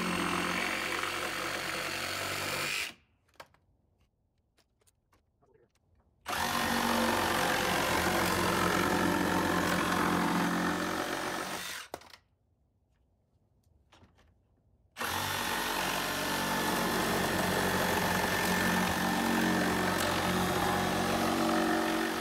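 A Milwaukee M18 FUEL Sawzall 2821-20 reciprocating saw, with another saw alongside, cutting in loud close bursts, a buzzing run of about three seconds, a pause, a longer cut, another pause, then a final sustained cut.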